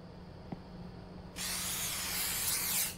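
Spray hissing in the horror video game The Convenience Store, a loud sustained burst that starts abruptly after a near-silent lead-in with a faint hum and lasts about a second and a half before cutting off.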